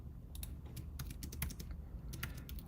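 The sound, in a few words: typing on a computer keyboard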